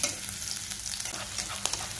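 Sliced shallots sizzle steadily in hot oil in a pan while being stirred, with soft scraping of the utensil over an even frying hiss, close up and with no voices.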